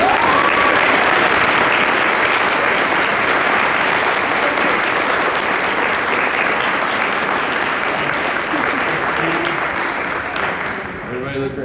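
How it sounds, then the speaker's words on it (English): Loud, sustained applause from an audience, dense clapping that holds steady for several seconds before tapering off at the end. "give them a round of applause"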